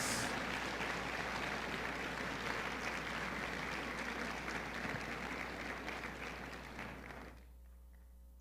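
A church congregation applauds on cue for a long, steady stretch of dense clapping with faint crowd murmur. It fades out near the end.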